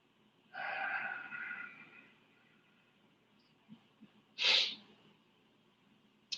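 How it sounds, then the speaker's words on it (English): Ujjayi breathing during a yoga practice: a soft, hissing breath constricted at the back of the throat. It is quiet and close, then a sharper, brief exhale follows after a pause. "Creating a sound at the back of the throat called Ujjayi breathing."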